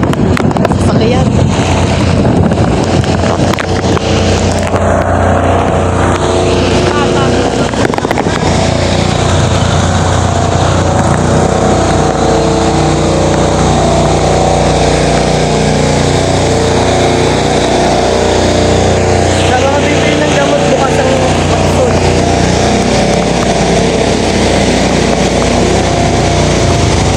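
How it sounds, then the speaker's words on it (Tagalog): A vehicle pushes through typhoon floodwater, its engine drone and heavy water and wind noise constant and loud across the whole stretch, with occasional voices in the cab. "Sasakyan."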